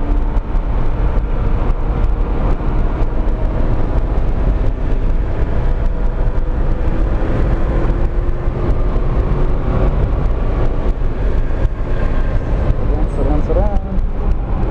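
Car engine on a racetrack revving up as the driver gets back on the throttle, a steady loud drone under a coaching voice giving instructions throughout.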